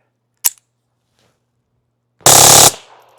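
A TX-22 rifle with a force reset trigger and a 3D printed silencer fires one sharp shot, then after a pause a loud, rapid half-second burst of fire.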